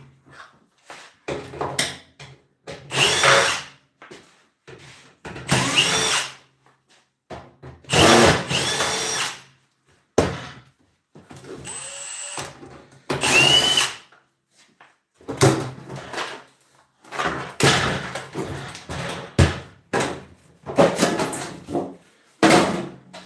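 Repeated close bursts from a power drill take apart a scrapped microwave, each whir starting and stopping sharply in an uneven rhythm, with clunks and rattles of metal parts between them.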